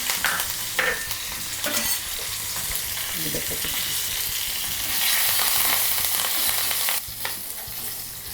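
Tempering of asafoetida, dried red chillies and curry leaves spluttering in hot oil for buttermilk rasam, a continuous close sizzle with occasional crackles and a few stirring scrapes.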